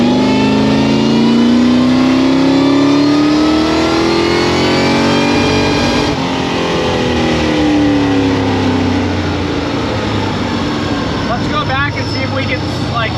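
A turbocharged car making only 4 pounds of boost accelerates hard at full throttle in first gear, its engine note climbing steadily in a loud, close roar that continues throughout.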